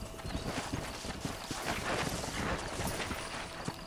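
Horse hooves clip-clop at a steady trot in the Western game Red Dead Redemption, close rhythmic thuds over a dense rumbling outdoor background, without talking.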